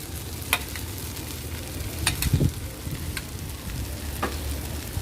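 Glass noodles stir-fried with cha-om and egg in a pan: a steady sizzle runs under repeated scraping and tossing strokes, with a few sharp utensil clicks and no voices.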